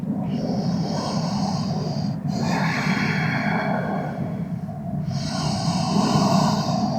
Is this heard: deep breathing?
yes